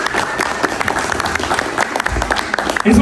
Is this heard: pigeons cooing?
no